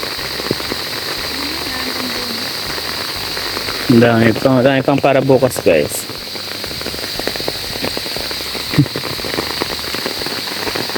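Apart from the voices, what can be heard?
heavy rain falling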